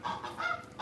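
Geese honk at an outdoor restaurant in Bujumbura, Burundi, a dense run of overlapping nasal calls that sounds fairly close and continues the whole time.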